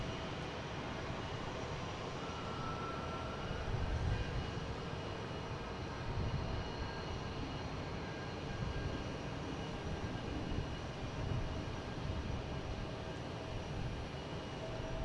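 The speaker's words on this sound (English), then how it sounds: "Lufthansa is on the roll on 15 right, heading back to Munich." A Lufthansa airliner bound for Munich rolls for takeoff with a faint, distant, continuous engine rumble that swells slightly in places and holds steady throughout.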